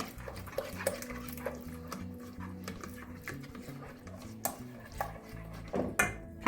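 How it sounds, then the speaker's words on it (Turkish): Flour being whisked into a Turkish yogurt soup (yayla çorbası) in a metal pot, with light rhythmic scraping and clinking of a whisk against the pot, close and fairly quiet, some sharper knocks, no talking. "Unumu ilave ediyorum. Ve karıştırıyorum. Çırpıyorum daha doğrusu."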